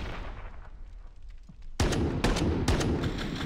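Gunfire in the shooter CS:GO: a few sharp, loud shots in quick succession with booming low end, arriving after a quieter stretch of ambient game noise and no talking.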